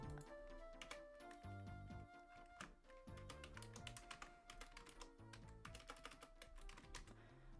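Rapid, continuous clatter of a computer keyboard as someone types out a raid message, dense bursts of keystrokes close to the mic with brief pauses, under faint background music.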